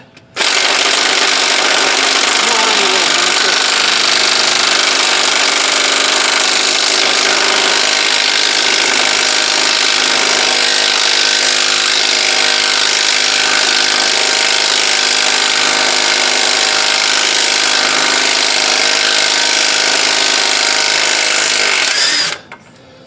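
A DeWalt impact wrench removes the wheel bolts on a Dodge Ram 3500. It makes a loud, continuous, harsh rattling drone that runs almost unbroken for over twenty seconds, close up and with no talking.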